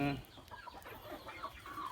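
Chickens clucking on a Thai poultry farm, several close, soft clucks and murmurs running continuously over about two seconds.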